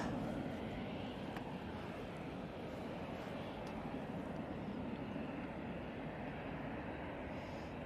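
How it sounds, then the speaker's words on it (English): A Ryanair Boeing 737 approaches while an Aer Lingus plane lands at Manchester Airport, giving a steady, broad jet roar that holds at moderate, distant loudness throughout. "We have this Ryanair 737 coming towards us, and Aer Lingus just touched down"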